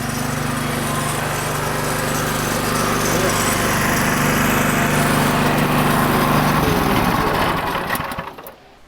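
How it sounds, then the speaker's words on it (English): A loud small pump engine drones steadily at close range, then cuts out and winds down near the end. "We can shut the pump off now."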